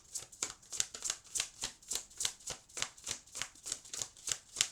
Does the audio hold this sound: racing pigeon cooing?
no